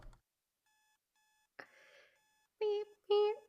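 An alarm clock gives a few faint, evenly spaced electronic beeps, then bursts of loud tonal sound follow that may be a voice.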